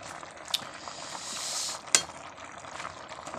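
Mustard green leaves boiling in a pot, a steady low bubbling with a brief swell of hiss and a couple of sharp metallic clinks from a stirring utensil against the pot.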